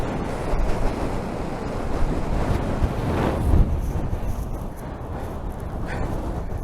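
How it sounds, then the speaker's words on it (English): Loud, continuous wind roaring and buffeting a microphone on top of West Kip in the Pentland Hills, with gusts swelling and easing throughout, no voices. "Huge wind gusts."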